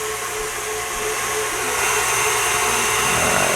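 Electric mixer whipping egg white at speed 6 for Italian meringue, a steady loud whirring drone with a bright high hiss that rises slightly in intensity, running throughout with no talk.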